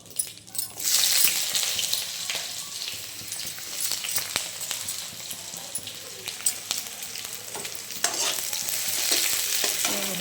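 Onion frying in a pan for a paneer sweet corn kurma, a loud steady sizzle broken by repeated scraping and clattering as it is stirred, with no voices.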